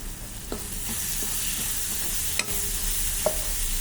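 Egg fried rice with coriander and mint is stirred in a pan, producing a soft steady sizzle with intermittent scraping and tapping strokes up close, and no voices.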